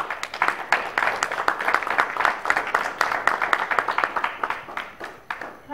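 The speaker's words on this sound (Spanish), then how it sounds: "Pues recibamos con un fuerte aplauso a Consuelo." Audience applause greets a storyteller at an International Mother Language Day event, a dense run of many hands clapping with irregular sharp claps throughout, fairly close and steady, with a faint murmur of voices underneath.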